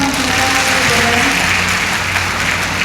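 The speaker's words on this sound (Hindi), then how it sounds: "मैं चाहूँगी कि एक बार जोरदार तालियां आप" Sustained, dense applause from an audience at a book launch ceremony in Barmer, loud and close, with a few voices mixed in underneath.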